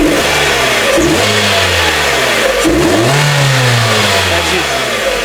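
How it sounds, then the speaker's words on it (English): A car engine being revved during a mass airflow sensor check, rising and falling in loud sweeps over a steady running drone, close up with no talk. "Let me go and rev this car a little bit."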